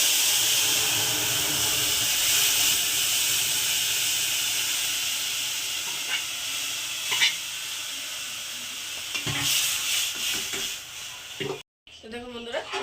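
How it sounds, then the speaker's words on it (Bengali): Spice tempering with asafoetida sizzles in a pan for a pea and lentil dal, a steady close hiss that fades slightly with a few stirring sounds near the end. "ফোড়নটা তো দিয়ে দিয়েছি। এবার এটাকে আমি একটু ফুটতে দেব।"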